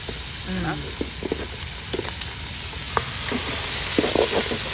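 Mutton frying and being stirred in a pan over a loud stove, a steady sizzle with scraping stir sounds, while a person talks over it.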